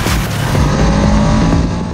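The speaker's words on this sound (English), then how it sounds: "There's still that mechanical exhaust and valve noise" A V2 motorcycle engine running under throttle, its mechanical exhaust note and valve clatter loud and close in a steady continuous roar.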